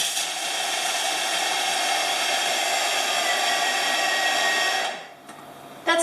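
A food processor grinds three cups of nuts into a fine crumb, a loud, steady whirring roar that runs for about five seconds and then cuts off abruptly.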